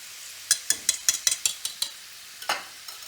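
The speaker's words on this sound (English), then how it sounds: "We scramble a little bit more." Eggs are scrambled in a frying pan while sausage frittata cooks, with about nine quick scraping strokes in a steady rhythm, then a pause and two more strokes over a faint sizzle, close and without voices.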